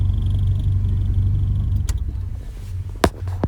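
A car's engine idles after a carburetor-to-EFI conversion, a steady low rumble with a slightly uneven, stumbling rhythm, interrupted near the end by a couple of sharp clicks or knocks.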